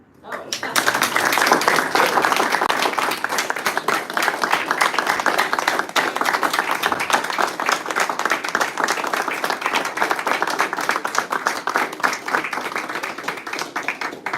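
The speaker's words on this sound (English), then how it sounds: "now let's clap" An audience at a school corporation meeting claps steadily and loudly for over ten seconds, a dense sustained patter that starts abruptly and holds without pause.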